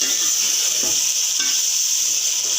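Tomatoes and spices, including red chili, salt, dried coriander and turmeric, fry in a pan with a loud continuous sizzle and occasional stirring scrapes.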